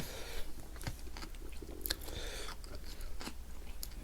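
Mouth chewing a large bite of raw shellfish such as oyster or scallop, close and fairly quiet, with wet squishy crunches and sharp clicks repeating irregularly and no speech.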